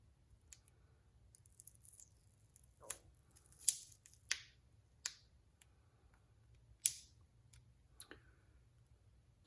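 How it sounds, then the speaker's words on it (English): A thin membrane is peeled up from a Roku remote's circuit board, giving a quiet string of sharp little clicks and snaps spaced irregularly over near silence. "On the board, there's this little membrane that I should be able to peel up."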